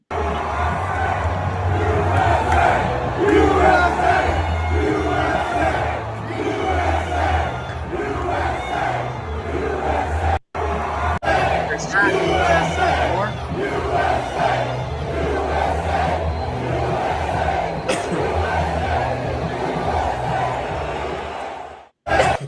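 A large stadium crowd roars and chants in rhythmic unison for over twenty seconds, a dense, loud mass of voices with a brief dropout near the middle and at the very end.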